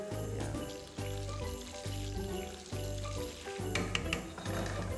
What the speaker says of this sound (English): Now that the onions and the garlic are kind of wilted, we've extracted the flavor